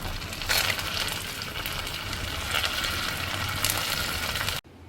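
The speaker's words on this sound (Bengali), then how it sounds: "এখন বাকিগুলো ভেজে নিচ্ছি" A batch of food fries in a pan for a Sawan Monday fasting dish, a steady, moderately quiet sizzle with faint surges that stops abruptly just before the end.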